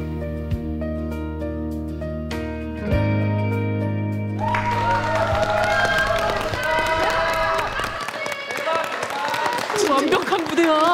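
A crowd cheers and applauds a dance performance, starting after a few seconds of music and swelling into sustained clapping and shouts mixed with the music, with voices over the top.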